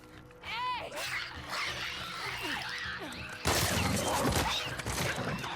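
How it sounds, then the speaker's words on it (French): A dog in the video game The Last of Us Part 2 barks and snarls amid crashing, thudding fight sounds, with a louder burst of impacts near the end and someone talking over the action. "Oh, le chien-chien."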